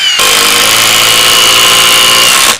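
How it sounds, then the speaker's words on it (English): A Milwaukee Fuel impact driver run on setting 3 gives one continuous, loud, high-pitched whir lasting about two and a half seconds, starting abruptly and cutting off at the end. "The first test is going to be the Milwaukee Fuel Impact driver"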